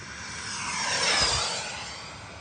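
An L-39 model jet airplane flies past in a desert setting, its turbine whine swelling as it comes close and then fading away, loud and steady with no voices.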